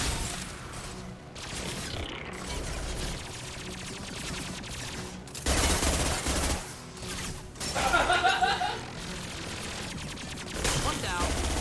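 An AI squad in Mass Effect Legendary Edition lays down sustained gunfire, with dense rattling bursts and louder volleys amid game effects and combat noise.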